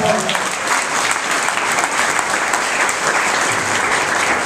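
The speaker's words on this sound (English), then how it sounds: "Give them a round of applause." Loud, sustained applause fills a nurses' pinning ceremony at Wagner College, dense continuous clapping from a large audience with no pause throughout.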